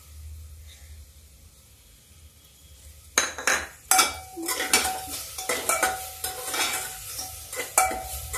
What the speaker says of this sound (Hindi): इसको हम फ्राई कर रहे हैं, धीरे धीरे भून लेते हैं